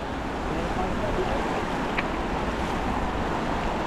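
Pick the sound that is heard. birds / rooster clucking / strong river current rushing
strong river current rushing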